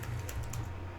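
Brief burst of typing on a computer keyboard while writing code, a few quick close key clicks over a low steady hum.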